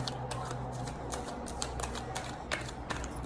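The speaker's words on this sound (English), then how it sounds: "So just finish shuffling these up" Tarot cards are shuffled in a rapid series of crisp, riffling clicks over a steady low hum.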